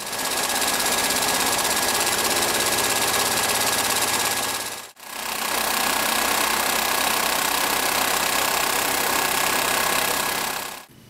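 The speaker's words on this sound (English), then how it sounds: "the shake table barely needs to move at 30 Hz to produce high acceleration" Seismic shake table vibrating at 30 Hz during earthquake testing, a loud steady mechanical hum and rattle that stops briefly, restarts and runs on with no talking.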